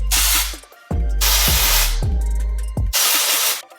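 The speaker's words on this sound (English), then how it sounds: "So I'm gonna use the OGX dry shampoo, the biotin and collagen one." OGX biotin and collagen dry shampoo sprayed from an aerosol can onto hair in several long hissing bursts with short pauses between, close and loud.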